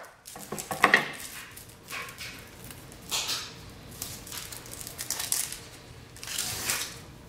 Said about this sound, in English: you've probably seen me dicing onions all the time